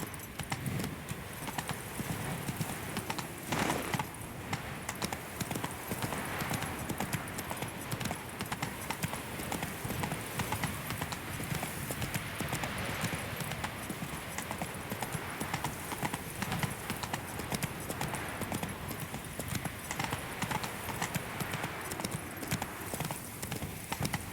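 Roach, Geralt's horse in The Witcher 3, gallops steadily with continuous rhythmic hoofbeats throughout, close and loud, with game music and ambience underneath.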